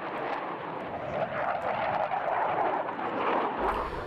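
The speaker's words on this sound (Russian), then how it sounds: "Одновременно авиация поднялась с 9 аэродромов." Military aircraft of the Russian Aerospace Forces fly during a large exercise, a steady broadband roar that holds loud and constant without a break, with no voices.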